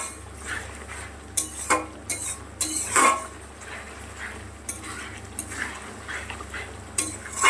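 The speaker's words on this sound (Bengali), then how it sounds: "এটা খুব ভালো করে আরও কষাতে হবে।" Katla fish and potato curry with turmeric and salt is stirred and sautéed in a pan, giving irregular scrapes and metallic clinks of a utensil against the pan over a faint low sizzle, with no talking.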